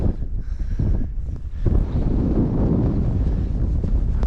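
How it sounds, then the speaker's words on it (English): Wind blows across open moorland on the Derwent Edge circular walk in the Peak District. It buffets the microphone in loud, rough gusts, choppy at first and then a steady roar, with no voices. "And you got a wind blowing on you"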